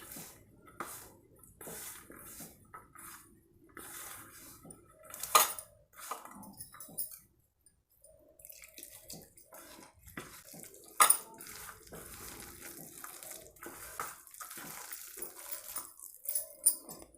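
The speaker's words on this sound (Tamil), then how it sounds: "இப்போ நல்லா கலக்கி கொடுத்துட்டு நம்ம தண்ணி ஊற்றி பிசைஞ்சிக்கலாங்க." Spinach bonda batter of flour, dosa batter and palak greens being mixed and kneaded with water in a bowl, irregular clinks, scrapes and soft wet squelches of utensils against metal, close and fairly quiet, with no talk.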